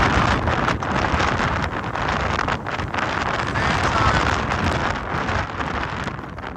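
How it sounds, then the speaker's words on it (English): Strong headwinds of 60 to 70 km/h on the Camino de Santiago between Nájera and Grañón buffet the microphone, a loud, continuous roar of wind rumble with gusting swells. "we were walking through 60 to 70 kilometer winds, and they were headwinds"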